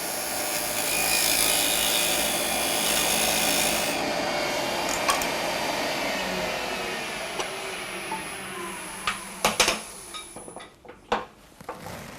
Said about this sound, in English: I'm going to take the badan and cut a tenon on the end of it again